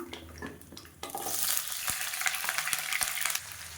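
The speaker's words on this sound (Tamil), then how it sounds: "ஒரு இருபதுலேருந்து முப்பது சின்ன வெங்காயம் முழுசாக அப்படியே கட் பண்ணி வச்சுருக்கேன் இதை அப்படியே சேர்த்துக்கலாம்" Twenty to thirty whole small shallots tipped into hot oil for a spicy onion kulambu, starting with a soft clatter and then a loud, close burst of sizzling and stirring that holds steady.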